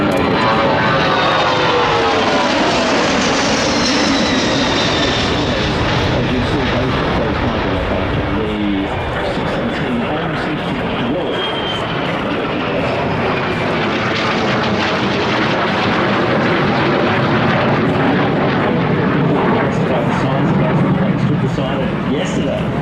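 Engines of a C-130 Hercules propeller aircraft power up for takeoff on a runway, making a loud, continuous roar with a whining drone that shifts in pitch as they build, heard from up close under someone speaking.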